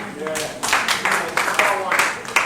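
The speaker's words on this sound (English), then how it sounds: "let's clap for them" Audience at a civil society and sustainability event clapping for presenters: scattered, fairly close hand claps in an uneven rhythm, with voices murmuring underneath.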